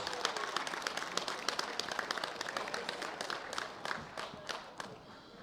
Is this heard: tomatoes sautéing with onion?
no